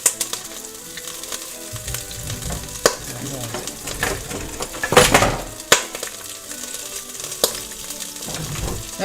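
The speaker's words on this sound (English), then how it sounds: "That meat's making a lot of noise." Meat fries in a pan for pasta, a continuous crackling sizzle punctuated by sharp clinks and scrapes of utensils against cookware, with one louder burst of spattering partway through.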